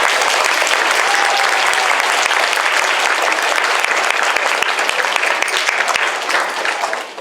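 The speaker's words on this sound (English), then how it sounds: "Let's give these students a round of applause." An audience at an elementary school end-of-year awards ceremony applauds continuously, dense clapping holding steady for several seconds before tapering slightly at the end.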